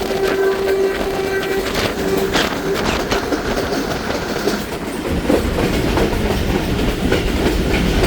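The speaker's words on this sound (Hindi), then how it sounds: "देखें दोस्तों ट्रेन चल रही है" Riding aboard the Thal Express at night, a continuous loud rumble and clickety-clack of wheels on rails, with a brief horn-like tone early on.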